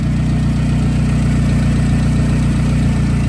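A 2007 Toyota Camry engine, running again after a blown head gasket repair, idles with a loud, close, even low rumble and a steady pulsing throb throughout.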